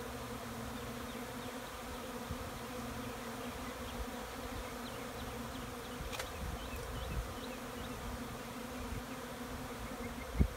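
Honey bees hum and buzz steadily around an open backyard beehive, a dense close swarm drone holding at an even level for the whole stretch, with a small knock near the end and no voices.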